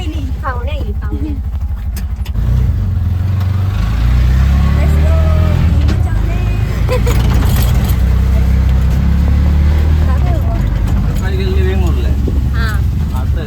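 An auto rickshaw ride with a steady low engine drone and road rumble throughout, growing fuller after the first couple of seconds, while people talk over it.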